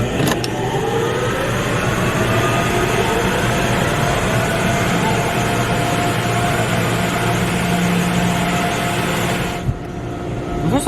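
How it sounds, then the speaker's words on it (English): Maxer blower dryers at a Washworld Razor double-barrel car wash roar loudly and continuously, a dense steady rush of air with a rising whine, cutting out briefly near the end. "Those are some good sounding Maxers."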